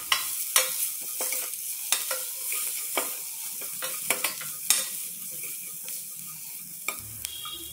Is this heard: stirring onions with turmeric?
yes